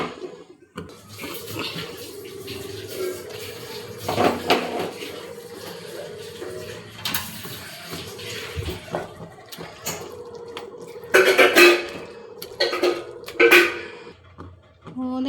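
Water poured into a pot of washed rice for chicken biryani, a running pour with splashy bursts near the end, heard close in a home kitchen.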